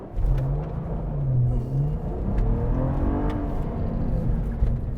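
A 2022 Cadillac CT4-V Blackwing sports sedan with a manual shifter accelerates hard, its engine rumbling and revving steadily from close range for about five seconds with no talking.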